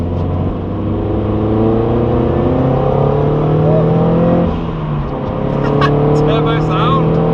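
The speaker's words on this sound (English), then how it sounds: "Turbo sound!" Turbocharged Toyota GT86 with an aftermarket exhaust, heard from inside as a steady, loud engine drone that dips briefly and then builds again, with faint whistling chirps near the end.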